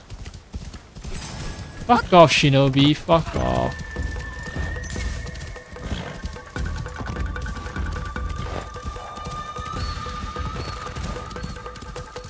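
In a video game, horses spawn and gallop with clip-clopping hooves and a whinny, loudest early, then fading under a lingering ambient drone while someone talks over it.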